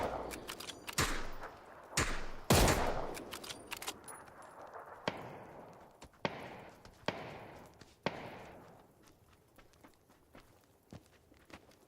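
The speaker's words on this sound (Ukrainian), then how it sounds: "Я стріляю" Gunfire in the battle royale game PUBG: a handful of sharp, loud shots at irregular intervals, some spaced seconds apart, with lighter footstep-like clicks and rustles between them.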